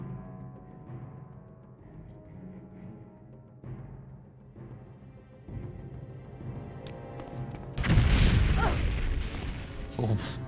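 Fire spells blast in Morrowind Bloodmoon, with a few soft thuds early, then a loud roaring burst near the end that swells over low, muffled background rumble.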